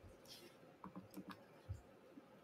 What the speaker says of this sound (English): Tim is typing it